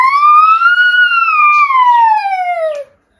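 A voice imitates an ambulance siren, one sustained wailing tone that rises, holds, then slowly falls for about three seconds before stopping.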